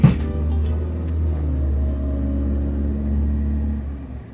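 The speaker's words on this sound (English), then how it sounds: "Loud ass car." A loud car rumbles past with a deep low engine drone that swells and holds, heavy bass dominating, close by and with no talking.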